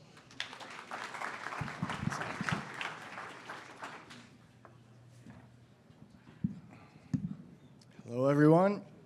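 Audience applause at a hardware startup pitch competition, a burst of clapping for about four seconds that fades into a quiet room with scattered knocks and shuffles, then a voice speaks briefly at the end.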